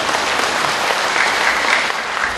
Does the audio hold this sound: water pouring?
no